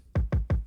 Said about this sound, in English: We got this kick here,